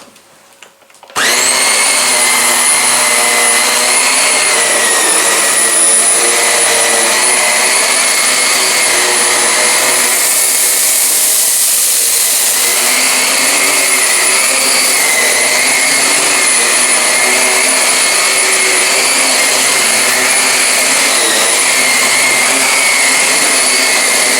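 A Vax Air Steerable Total Home U88-AM-Te upright vacuum cleaner starts up with its vents opened and runs as a loud, steady, close roar with a high whine throughout.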